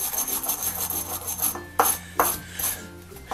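Gunk being scrubbed off the threads of a blow torch pump during a repair, steady close rasping strokes followed by two sharper scrapes, with no voices.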